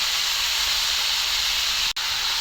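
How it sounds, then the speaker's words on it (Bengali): Meat sizzling in a hot pan as it is added and sautéed, a steady loud hiss of frying with a brief break near the end, no voices. "বন্ধুরা, এবার মাংসটা দিয়ে দিলাম, দিয়ে ভালো করে কষানো হবে।"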